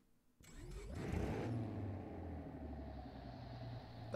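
A custom-built car engine in a video game fires up after a moment of quiet, then rumbles and revs quickly with a rough, buzzing tone that settles into a steady drone, with no voices over it.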